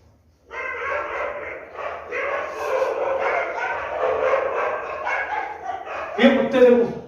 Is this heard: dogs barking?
yes